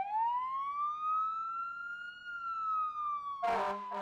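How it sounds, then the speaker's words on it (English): A fire engine siren wails from a station across the street, a loud sustained tone rising and then slowly falling, broken near the end by a short burst of rumbling vehicle noise. "The firefighters don't usually turn the siren on until they get down the street a bit."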